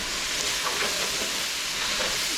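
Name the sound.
stirring savory herbs into vegetables in a pan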